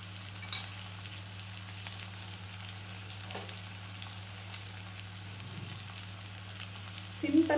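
Angel fish frying in oil in a pan over a medium flame, a steady soft sizzle with low crackle throughout, fairly quiet, with a brief clatter near the end.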